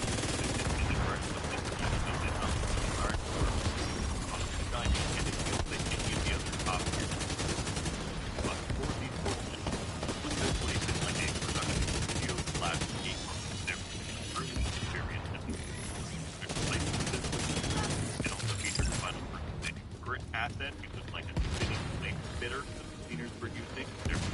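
Sustained gunfire from the video game Division 2, with bursts of automatic shots crackling densely and continuously under a person talking.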